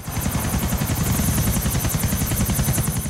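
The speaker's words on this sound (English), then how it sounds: "lightning speed wins helicopter dogfights" Helicopter in the video game GTA flying steadily with a loud, continuous rotor thump and whine, close and unbroken for the whole stretch, with no talking.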